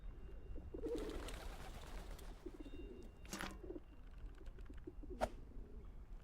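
Pigeons cooing in the game Whateverland, soft repeated low coos near and moderately faint, mixed with a few sharper clicks and bird calls, no talking.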